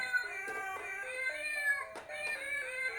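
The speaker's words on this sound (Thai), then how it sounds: "อ่ามีแมวด้วย" A cat meows repeatedly close by indoors, a run of several short, clear calls with rising and falling pitch over a quiet background.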